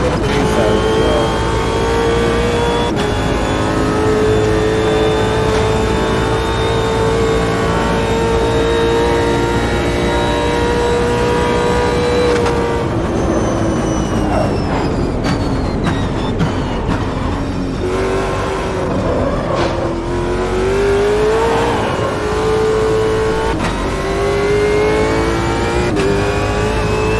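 Race car engines in Automobilista 2 at Bathurst, several cars droning and revving loudly and continuously, with pitch rising and falling through gear changes as other cars close in and pass.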